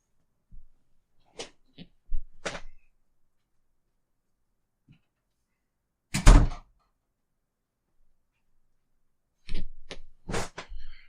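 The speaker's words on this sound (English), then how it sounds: "I got to close my door first." Someone shuts a room door indoors with a few soft knocks and handling taps, then one firm close around the middle, followed by a cluster of further thumps near the end, all close and otherwise quiet.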